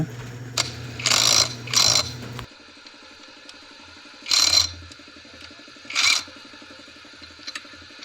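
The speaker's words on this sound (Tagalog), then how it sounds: "So higpitan lang natin ng maayos" Screws being tightened on a motorcycle clutch cover: a few separate bursts of metallic ratcheting and scraping over a steady low mechanical hum, close and moderately loud, with quieter ticks between.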